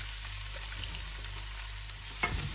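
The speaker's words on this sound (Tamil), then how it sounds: "வெங்காயத்தை போட்டு அந்த வடிவாக வதக்கிடுவோம்" Chopped onions hiss in oil with mustard seeds and fennel, a steady, even sizzle over a low hum, with a single clatter of a utensil near the end and no talking.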